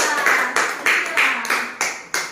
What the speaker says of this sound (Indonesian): Tepuk tangan dulu untuk Jawa.